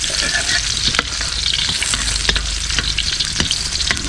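Ginger fries and browns in a hot pan, a loud, close, continuous sizzle with occasional clicks and scrapes of stirring.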